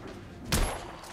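A single sharp gunshot blast from The Order: 1886 gameplay on PS4, loud and brief, standing out against a low game background with no talk.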